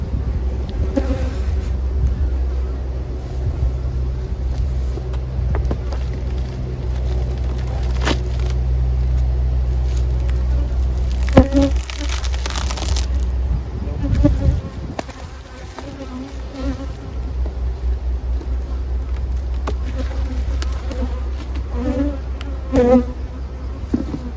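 Honeybees buzzing around backyard beehives in summer heat, a dense continuous drone of many insects close by, with a low background rumble and a few brief knocks, no talk.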